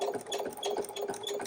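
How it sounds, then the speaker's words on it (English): Sewing machine stitching quilting lines on a scrappy improv potholder, a close, steady fast mechanical whir with rhythmic pulsing needle beats and no talk. "I'm just letting the machine auto cut at the end."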